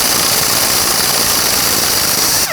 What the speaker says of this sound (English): The reason I like to remove the bolt with my air gun and not the nut